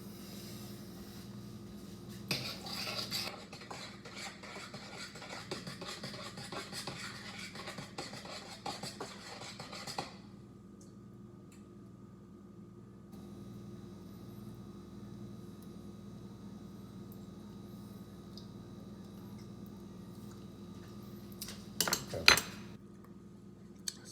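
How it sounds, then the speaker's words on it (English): Spoon scraping and clinking around a pot of chili, with busy metallic stirring for several seconds, then quiet room tone and a couple of sharp clanks near the end; no talk. "So I've stirred the chili"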